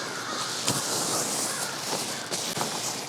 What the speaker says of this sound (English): nothing wrong with an ambience of crows.